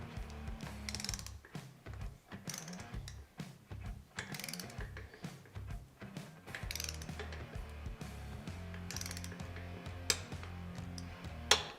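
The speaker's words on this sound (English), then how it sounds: "we're going to go ahead and re-torque everything at 15 foot-pounds of torque" A torque wrench ratchets while tightening cylinder bolts to 15 foot-pounds on an S&S Cycle 1200 conversion kit for a Sportster XL: dense, rapid mechanical clicking in quick bursts, close and fairly quiet, with no voices.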